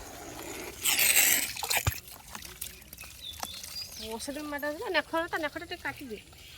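Water splashes loudly in a short burst while a vehicle is washed outdoors, followed by quieter trickling as people talk over it.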